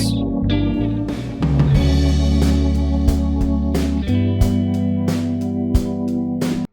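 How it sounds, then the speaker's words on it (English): Drums added to an unmixed lo-fi beat: a steady pattern of kicks and crisp snare or hat hits over sustained bass and keys, punchy and close, with no voices. "And drums."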